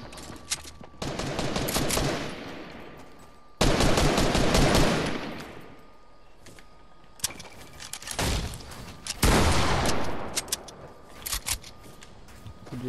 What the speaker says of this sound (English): Just shot right now